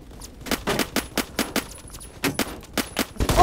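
Rapid semi-automatic SKS rifle fire in the Roblox shooter Phantom Forces, a quick series of sharp, loud, close shots in uneven bursts with brief gaps, no voices over it.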